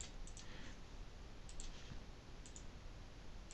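Computer mouse clicks while copying, right-clicking and pasting text, sharp faint clicks in small pairs spaced across a quiet room, no voices.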